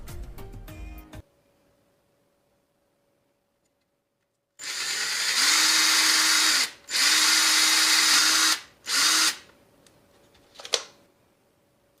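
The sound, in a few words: Ryobi power drill drilling holes in popsicle stick pallet corners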